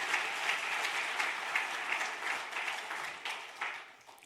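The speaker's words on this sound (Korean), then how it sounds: "박수 한번 칠까요?" Congregation applause at a church anniversary revival service, a dense, steady patter of many hands clapping at moderate distance for several seconds with no talk over it, thinning slightly toward the end.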